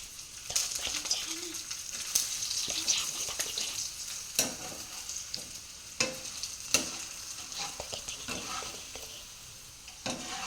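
Food fries in a pan with a quiet, steady sizzle, punctuated by sharp clicks and scrapes from stirring.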